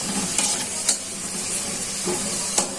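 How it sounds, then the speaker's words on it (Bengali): Chopped onion frying in hot oil, a steady close sizzle broken by a few spatula scrapes spaced apart, no talking. "বোনেরা, পেঁয়াজটা ভাজা হয়ে গেছে"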